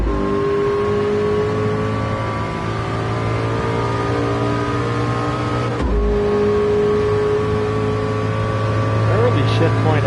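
A Ford GT V8 revs hard through the gears at Daytona in Gran Turismo 7, one climbing engine note cut by a quick upshift near the midpoint before the revs build again.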